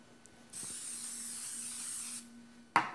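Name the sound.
cooking spray sprayed from a can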